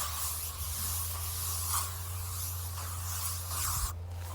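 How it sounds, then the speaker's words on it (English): Bug spray hisses from a can in a steady, continuous spray outdoors, close and moderately loud, cutting off abruptly near the end. "I think it's time to add, more than what is chemically necessary bug spray to the mix here."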